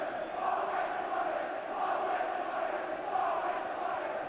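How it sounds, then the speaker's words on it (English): Football crowd jeering a Rangers player during a Dundee United v Rangers match, a steady broad roar of booing and shouting from the terraces, continuous and moderately loud throughout. "the fans who used to cheer him, jeering there"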